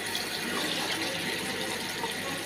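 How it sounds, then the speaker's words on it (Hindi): A glass of water pours into a pot of mutton pulao, a steady splashing gush lasting a couple of seconds, close and alone. "और साथ ही 1 गिलास पानी का डालूंगी।"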